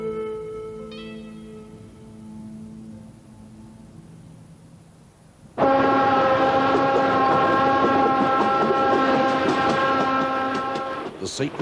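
A loud, steady rumble with sustained horn-like tones starts suddenly partway through, after a quieter stretch with a voice, like a train running on rails nearby, in the Sacred Valley of the Inca, Peru, 1984.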